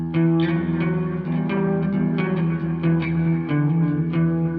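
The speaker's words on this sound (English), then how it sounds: "See how it's making the reflections on the delay and the reverb?" Electric guitar through a Santono Uno preamp, notes ringing out with repeating echoes and a wash of reverb, each picked note trailing into overlapping reflections that blur together.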